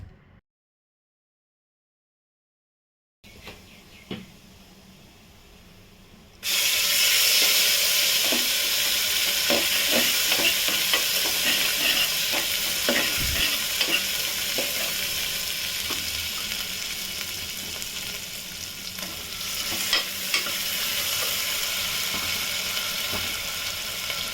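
After a brief quiet start, curry leaves, red chilli powder and asafoetida hit hot oil and burst into a loud, sustained sizzle with scattered pops and crackles, no voices.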